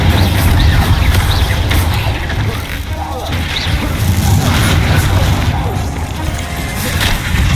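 Confringo and Incendio spell blasts crash and boom almost without pause in the Hogwarts Legacy video game, a dense, loud barrage of impacts with a voice calling out over the din.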